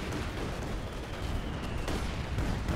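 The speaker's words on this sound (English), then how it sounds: "Oh, there we go. Artillery came in." Artillery barrage in the war game Company of Heroes 2, a dense, continuous rumble of overlapping shell blasts with no pauses between impacts.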